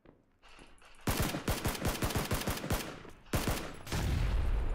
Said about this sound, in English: They're shooting from behind us.